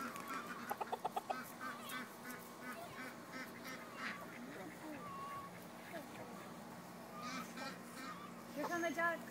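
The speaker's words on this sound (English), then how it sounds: "Here come the ducks." Ducks quacking and honking at a distance amid a noisy outdoor bustle, with a short burst of sharp calls early on and louder calls near the end.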